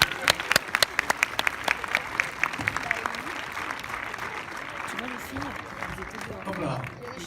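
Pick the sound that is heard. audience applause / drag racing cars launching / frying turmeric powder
audience applause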